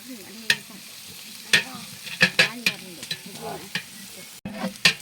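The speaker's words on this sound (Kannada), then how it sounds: "ಶುಂಠಿ ಬೆಳ್ಳುಳ್ಳಿ ಪೇಸ್ಟ್ ನೀರುಳ್ಳಿ ಫ್ರೈ ಬೇಕು ನೀರುಳ್ಳಿ ಫ್ರೈ ಆಗ್ಬೇಕು" Onion with ginger garlic paste frying and being stirred in a pan, with repeated clear scrapes and clinks of a spoon against the pan over a steady sizzle, close and fairly loud, no talking.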